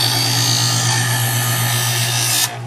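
A Chef'sChoice 120 Diamond Hone EdgeSelect electric knife sharpener whirs steadily while a blade is drawn through its polishing stage, a loud even motor hum with a grinding hiss that cuts off abruptly near the end.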